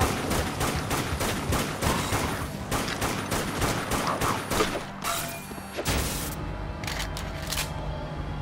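Rapid rifle gunfire in the zombie shooter Dead Nation crackles in dense bursts of sharp shots for several seconds, then breaks off into a few scattered shots and mechanical clicks.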